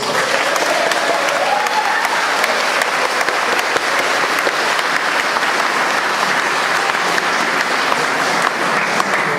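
An audience applauds at a public speech about CCTV cameras in Birmingham, sustained and loud with thick, even clapping that fills the room for the whole stretch, with a faint crowd murmur beneath.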